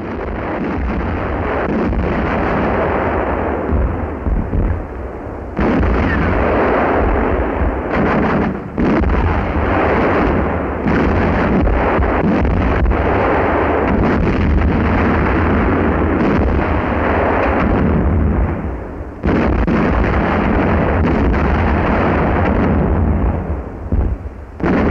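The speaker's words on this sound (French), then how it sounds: "De brefs tirs d'artillerie mettent le feu au ravitailleur et le détruisent." Short bursts of naval artillery fire strike and set ablaze a supply ship in wartime, a loud, dense wash of booming and rumbling blasts that runs almost continuously with brief dips, under heavy wind-like noise.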